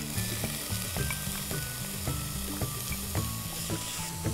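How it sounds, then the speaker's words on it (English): Onions hit a hot pan already holding garlic and ginger and sizzle steadily, loud and close, while a utensil knocks and scrapes in a regular rhythm about twice a second. "Stir everything and then add the onions."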